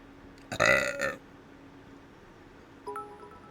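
A single loud, close burp with a gurgling, voiced tone lasts about half a second, followed by quiet room noise and a brief faint tone later.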